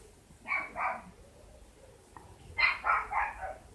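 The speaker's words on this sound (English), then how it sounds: "And the dog is having a complete and utter fit." A dog barks in two short bursts of a few rapid, moderately close barks, separated by a brief pause, with no speech.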